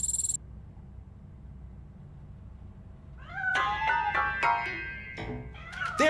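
A cat meows repeatedly in the RoboCop Rogue City video game, a series of clear rising and falling cries over a low steady background hum, following a brief high electronic tone at the start.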